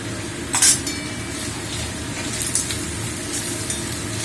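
Cumin, chili and turmeric powders fry for mutton in a pan, giving a steady low sizzle under a few close clinks of a utensil against the pan. No one speaks.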